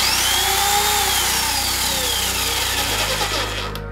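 A YamaMoto electric chainsaw runs at a steady, loud, high-pitched whine close by, with no voices, then its tone shifts near the end as it winds down.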